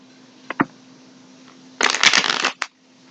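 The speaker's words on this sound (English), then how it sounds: "Now I'm pulling the Rider-Waite deck." A Rider-Waite tarot deck being shuffled: two quick riffles near the start, then a dense, close burst of card flutter lasting under a second with a final short flick, over a faint steady hum.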